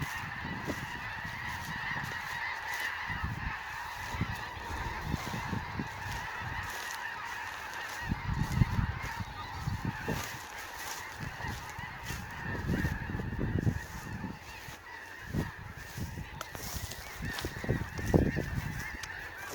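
A flock of geese honking repeatedly as they take off and fly, calls overlapping at a moderate distance amid wingbeats and background noise.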